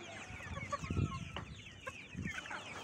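Chickens drinking from water mixed with beetroot and hot pepper, clucking softly and repeatedly nearby in short, uneven bursts over a low background of farmyard noise.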